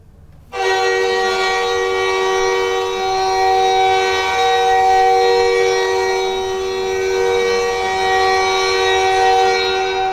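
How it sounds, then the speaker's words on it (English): Montreal Canadiens NHL goal horn blasting as a loud, sustained chord-like tone that begins abruptly and holds steadily for about ten seconds, alone and without any talk. "I've always hated that goal horn."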